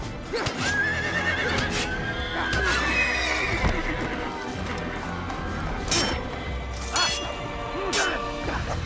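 A horse in the video game Assassin's Creed neighs and whinnies repeatedly amid clip-clopping hooves and sharp clattering impacts, with a person talking over the game sounds.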